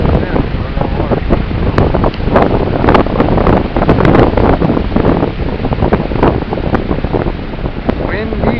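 Strong wind buffets the microphone on a lakeside creek hike, a loud continuous roar with gusty rustling that never lets up, no voices breaking through.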